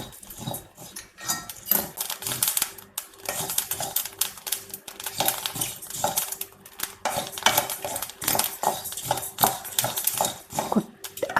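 A sweet snack mixture being stirred in a pan as its water cooks off, with continuous scraping and clattering of a utensil against the metal, busy and fairly close, with no talk.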